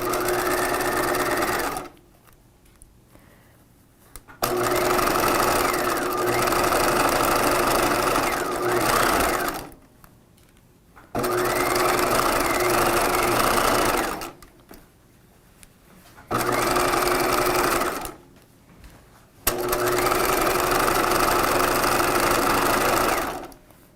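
A sewing machine stitches a seam on a 1950s shelf-bust dress, running in four or five loud, steady bursts separated by brief pauses, close and without talk.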